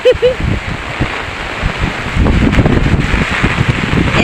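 Heavy rain pours steadily during a storm with wind, a dense broadband wash of falling water that grows louder partway through, with brief voice-like sounds near the start.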